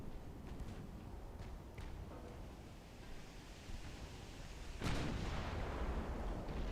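Battleship guns in the naval game Ultimate Admiral: Dreadnoughts boom over a constant sea-like rumble, with faint distant shots early and one loud salvo rolling out near the end.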